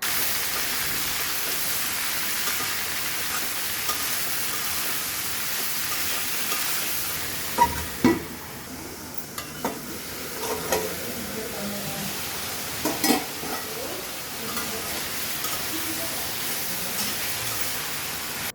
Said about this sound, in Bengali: হলুদ লবণ দিয়ে সবজিগুলো একটু ভেজে দিছি